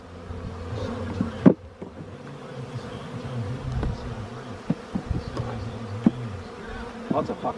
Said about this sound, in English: Lots of fucking bees, though.